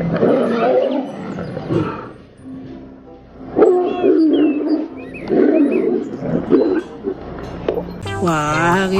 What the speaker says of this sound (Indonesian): Wah, ada juga satu ekor harimau nih teman-teman.